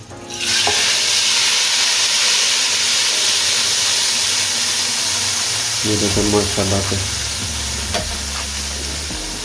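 Loud, steady sizzling erupts as a hot oil tempering with cumin is poured onto kadhi and hisses continuously, while a voice speaks briefly over it.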